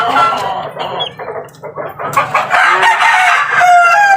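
Chickens and chicks, including a sickly, listless one, cluck, squawk and crow close by in a continuous jumble of overlapping calls, with one rooster-like crow standing out among the busy peeping and clucking.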